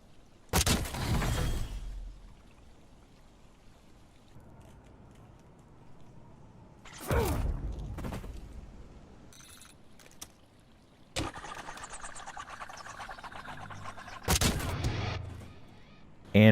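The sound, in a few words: weapon firing in video game Black Ops 7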